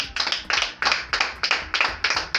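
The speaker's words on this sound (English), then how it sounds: "Give her a round of applause." Hands clap in steady bursts of applause at a family birthday celebration, several people clapping together up close in rhythmic waves, no talking over it.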